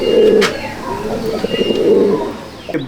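Kalasabuj pigeons in a loft coo in low, throaty bursts, with several overlapping calls, loud and close, plus a few faint chirps and rustles.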